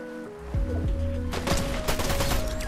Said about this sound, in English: I'm getting shot from below the map